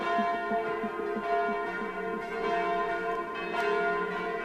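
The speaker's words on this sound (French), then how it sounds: "toutes les cloches des églises suisses ont sonné ensemble" Church bells across Switzerland ringing together in national mourning, overlapping rich peals with layered tones and rhythmic strikes swelling and fading, heard alone without voices.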